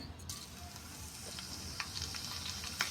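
Cumin seeds fry in hot oil in a kadhai, a faint, steady sizzle with a few small crackling pops scattered through, quiet and close with no voices.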